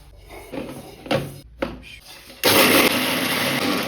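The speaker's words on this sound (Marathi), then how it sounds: "आता ते आपण मिक्सरमधनं काढून घेणार आहोत." After some clattering and knocks, a mixer grinder grinding peanuts and coriander bursts into a loud, steady whirring grind that runs continuously to the end.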